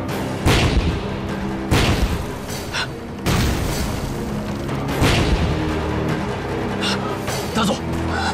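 Explosions and artillery-like booms go off in a war film battle scene in a repeated series of loud, heavy blasts, with shouting voices mixed in among them.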